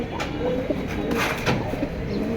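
Pigeons in a large-breed pigeon collection kept for sale coo repeatedly at close range, with soft overlapping calls over a steady background hum and no clear talk.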